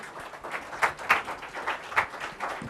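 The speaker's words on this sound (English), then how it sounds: "let's have a huge round of applause for Mr." A sparse audience at an agile testing conference gathering in Bangalore claps for an honoree, individual hand claps distinct and uneven, moderately close.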